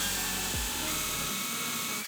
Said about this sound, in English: I'm going to use a 5/8 Forstner bit. And I'm just going to drill down into each one of these.